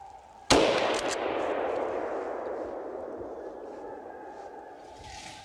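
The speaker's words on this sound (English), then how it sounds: "Here we can see the same shot from the opposite direction." A single loud rifle shot during a wild boar hunt in woodland cracks sharply and then rolls away in a long, slowly fading echo.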